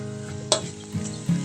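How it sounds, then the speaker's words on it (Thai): Chopped onion stir-frying in a little vegetable oil in a hot pan over medium heat, a steady close sizzle with a few scraping stirs of a utensil. "ให้ตั้งไฟปานกลาง พอกระทะร้อน ก็ใส่น้ำมันพืชลงไปเล็กน้อย แล้วใส่หอมใหญ่ที่หั่นไว้ แล้วลงไปผัด"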